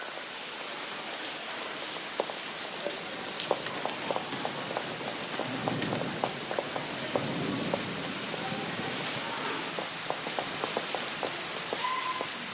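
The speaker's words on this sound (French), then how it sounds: "la lourde pluie d'orage qui le transperçait" Heavy thunderstorm rain pours steadily onto surfaces, a dense continuous hiss dotted with sharp individual drop impacts, fairly faint and even throughout with no voices.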